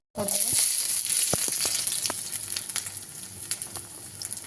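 Garlic hitting hot oil in a pan and frying with a steady bright sizzle, faint scraping and a few short taps under the hiss.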